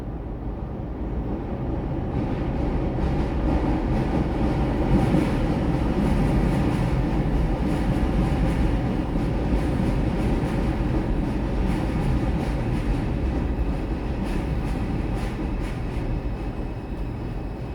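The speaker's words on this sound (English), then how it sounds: "There goes a train above us." An elevated subway train passes directly overhead with a continuous heavy roar and clatter of wheels on rails, steady and loud throughout, on Jerome Avenue in the Bronx.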